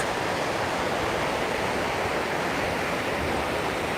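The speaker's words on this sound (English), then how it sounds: "all this water is just coming rushing off the mountains" Rushing water pouring off the mountains at Port de Soller, Mallorca, after two days of heavy rain, a steady broadband roar that stays constant and loud throughout with no talk.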